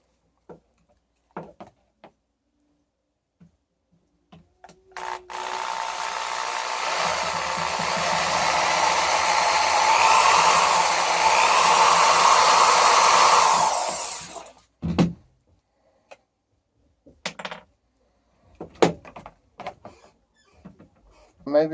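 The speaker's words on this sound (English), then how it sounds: "I think I'm going to try to put a small screw through that." A power tool whirs steadily for about ten seconds as a small screw is driven through a camera mount, followed by a few scattered clicks and handling knocks.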